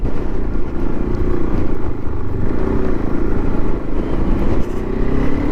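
A Fantic Caballero 500 motorcycle rides off-road along a green lane in the North York Moors National Park. Its steady engine drone runs throughout at moderate loudness, with some clatter and slight shifts in revs and no talk.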